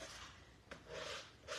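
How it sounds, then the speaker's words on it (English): Sanding block rubbed along wood to distress it, giving a steady rasping scrape that pauses briefly near the middle and then resumes, close and fairly loud with no talking. "sanding in a little bit, distressing."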